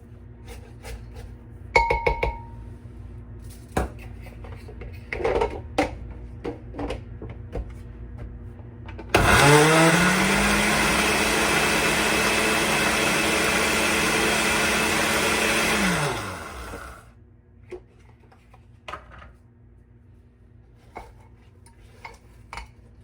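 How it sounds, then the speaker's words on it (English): A blender whirs loudly for about eight seconds, revving up and then winding down, amid scattered kitchen clatter before and after. "Sometimes when you're using a blender, you just gotta kind of move it around a little."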